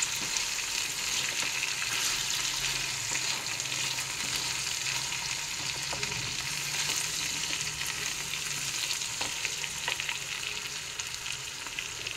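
Mango achari mutton fries in a pan with a steady, even sizzle and hiss, joined by faint occasional scrapes of stirring.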